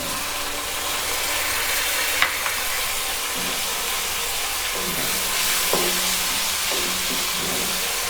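Onion frying in a pan with ginger-garlic paste added, a steady broadband sizzle running throughout with a few small clicks and stirring knocks, close and continuous, no voices.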